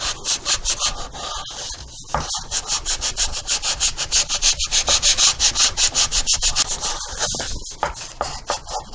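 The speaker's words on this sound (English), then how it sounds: "I might have to replace my sandpaper on my bar." A sandpaper bar rubs back and forth on wood on a kit plane's vertical stabilizer, with steady rhythmic strokes at close range, brief gaps between runs, and no voices.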